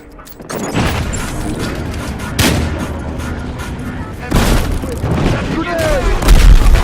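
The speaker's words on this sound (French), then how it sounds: "Oh, grenade." Explosions and gunfire from the video game Battlefield Hardline, with a grenade among them: loud booms and rumbling blasts recur over a dense, continuous din of battle, and a voice can be heard in the mix.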